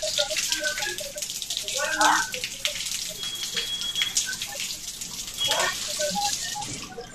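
Water gushing and running through pipes and a tap during a geyser installation, a steady splashing flow with a few louder surges, while someone talks over it.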